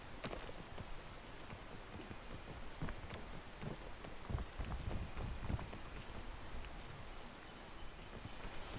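Continuous steady rainfall in the video game PEAK, a dense close hiss of drops with occasional heavier spatters and low rumbles, heard alone without talk.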